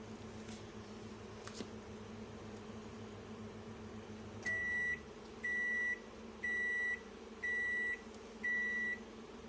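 A Downlane microwave oven hums steadily as it runs, then its timer finishes with five evenly spaced, loud beeps about a second apart, no voices.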